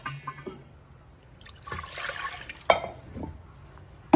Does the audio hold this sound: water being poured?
yes